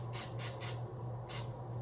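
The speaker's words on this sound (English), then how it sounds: "Oh, I need to grease my pan first. I bought cooking spray for this." Cooking spray hisses from a can onto a cake pan in three quick bursts, then one more after a short pause. The sprays are close and fairly faint, with a low steady hum under them.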